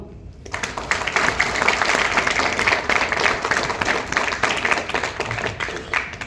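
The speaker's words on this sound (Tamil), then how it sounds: "மிகப்பெரிய ஒரு நம்ம எல்லாருமே எனர்ஜியாக கை தட்டிடலாமா?" An audience bursts into energetic clapping at a crypto business talk, a dense, sustained wash of many hands that starts abruptly and stays loud throughout.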